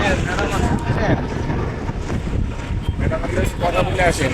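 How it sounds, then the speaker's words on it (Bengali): A motor trawler's engine and rushing wind across open water as it departs on the Turag River, steady and moderately loud, with a voice talking faintly in the background. "এই যে ট্রলার একটা ছাড়লো"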